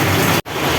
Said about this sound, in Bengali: বৃষ্টি, এত পরিমাণে বৃষ্টি হচ্ছে, আমাদের রাস্তা পুরাটাই ডুবে গেছে।